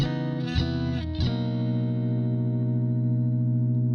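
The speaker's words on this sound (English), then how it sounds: "let's hear what a compressor does to our tone" A sustained electric guitar chord rings out after a couple of quick strums, smooth and evenly leveled by a compressor on a Fender Tone Master Pro, with a slightly effected, shimmering clean tone and no talking.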